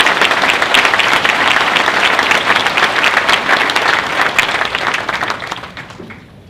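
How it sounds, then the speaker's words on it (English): Sustained audience applause at a medical school white coat ceremony as the first group of students is called to the stage, a dense, loud wash of many hands clapping that holds steady, then thins and fades toward the end. "Please join me in a round of applause"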